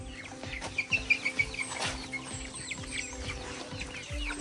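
Chickens cluck in a short series of soft calls, with faint rustling and low background noise around them.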